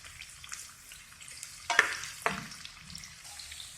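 Capsicum, red pumpkin and French beans frying together in oil for veg kolhapuri, with a soft low sizzle and two sharp stirring scrapes near the middle.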